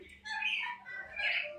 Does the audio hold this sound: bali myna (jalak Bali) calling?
yes